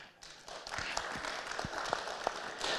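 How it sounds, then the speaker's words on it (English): Applause from attendees at a community meeting, a steady patter of clapping hands across the room at moderate volume with faint talk mixed in. "And we are cheering for you, Katie, to be right at the top of your game."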